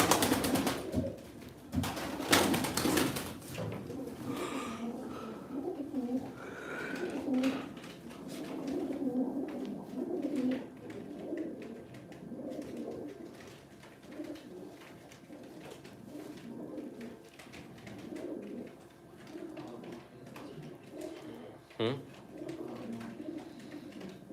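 Game pigeons coo steadily at a bird auction, with soft overlapping calls close by, a murmur of voices and a few sharp knocks now and then.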